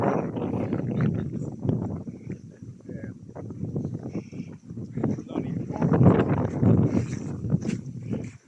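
Gusty wind on a breezy, cold April day in Rendlesham Forest, Suffolk, rumbling and buffeting close to the microphone in uneven surges, with people talking over it.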